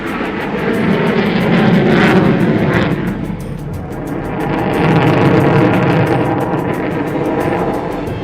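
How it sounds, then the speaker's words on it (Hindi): Indian Air Force Tejas, Jaguar and Mirage fighter jets fly past at an Air Force Day display, a loud roaring engine wash that swells, dips briefly and swells again without any talk. "राफेल के अलावा भारतीय वायुसेना के भरोसेमंद और दमदार तेजस, जगुआर और मिराज विमानों ने भी अपना जलवा बिखेरा"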